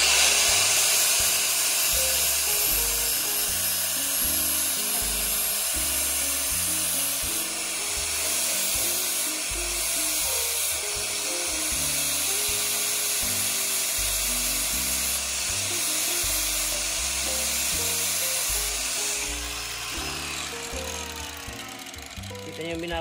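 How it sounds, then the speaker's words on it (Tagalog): An angle grinder cuts and trims a carbon fiber car part for clearance, giving a loud, continuous high-pitched whine with a steady rumble underneath that runs unbroken for more than twenty seconds. "Saglit lang naman, ayan, may grinder naman tayo."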